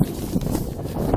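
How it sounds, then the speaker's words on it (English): Wind buffeting a microphone outdoors during a walk, a steady low rumbling roar with gusty swells throughout, close and fairly loud. "God, it's windy"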